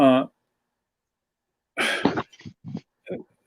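A short cough at the start, then silence, followed by a few soft, breathy sounds like throat clearing or quiet speech.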